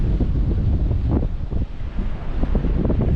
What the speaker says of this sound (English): I can blow away in this wind, dude.